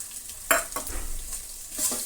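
Garlic and finely chopped onions frying in a pan, a soft sizzle punctuated by a couple of sharp spoon scrapes and taps, close and brief with no talking.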